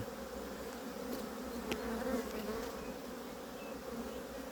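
Swarm of honeybees buzzing around hive frames during beekeeping, a dense continuous hum held at an even level throughout, with a few brief clicks and handling noises.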